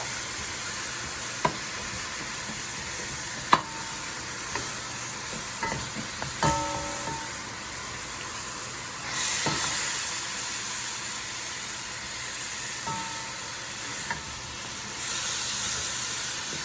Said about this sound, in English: you basically want to sear your meat